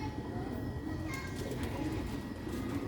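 Sialkoti pigeons coo softly in low, throaty murmurs against a steady background hum, with no talking.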